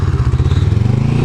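Cruiser motorcycle riding off-road, a loud close engine thrumming in a rapid, steady pulsing rhythm with no talk.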